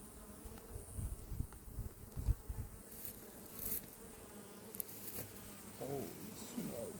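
Bees in an opened beehive drone in a steady, close buzz that persists throughout, with occasional louder bursts as individual insects pass near.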